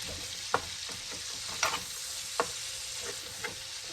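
Sausage sizzling steadily in a hot pan while being broken up and browned, with sharp scraping stirs from a utensil at irregular intervals over the constant close frying hiss.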